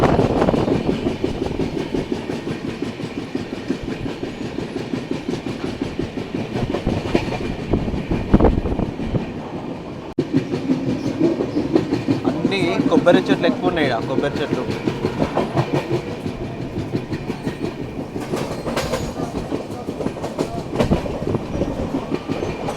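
A passenger train on the Goa to Secunderabad route rumbles and clatters steadily throughout, wheels clicking over rail joints, while someone talks over the constant noise.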